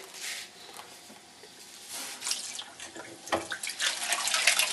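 Water dipped from a tank while preparing fishing bait outdoors, heard as irregular splashing and trickling with a few louder sloshes toward the end, fairly close and with no talking.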